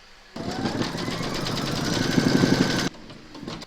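A home embroidery machine runs a quilting round on a fabric notebook cover in the hoop, stitching in red thread. Its loud, fast, rhythmic hum rises for about two and a half seconds and then stops abruptly.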